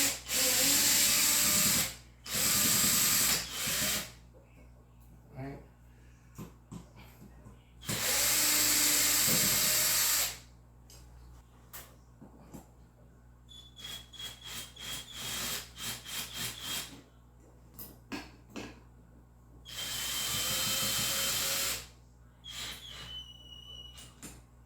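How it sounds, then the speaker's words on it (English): A WORKPRO cordless electric drill runs in loud bursts of several seconds each while a ceiling fan is being replaced, separated by quieter stretches of clicks, taps and handling noise. "I'm going to use my handy dandy electric drill"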